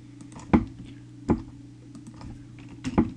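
Keystrokes on a computer keyboard, a few sparse clicks spaced apart, fairly quiet over a steady low hum.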